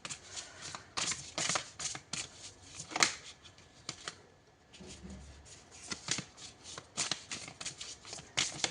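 Tarot cards being shuffled by hand, repeated riffling bursts of crisp paper flutter in quick rhythmic sets, close and clear, with short pauses between shuffles.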